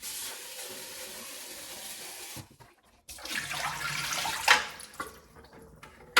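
Tap water runs into the water tank of a De'Longhi Magnifica Start coffee machine, a steady rushing stream that stops briefly, then resumes with fuller splashing and a few knocks of the tank near the end.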